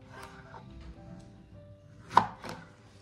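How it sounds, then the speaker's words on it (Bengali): A knife chops through an eggplant on a board, a few quiet scattered cuts followed by one sharper, louder chop and a softer one after, close by with no talk. "বেগুনটাকে আগে কাটি।"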